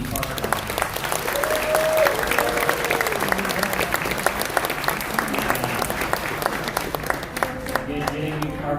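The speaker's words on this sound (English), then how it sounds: "Give him a round of applause for the new park." Crowd applause during a theme park member town hall in a theater, a full steady burst of clapping from a seated audience with scattered voices and a whistle-like cry over it.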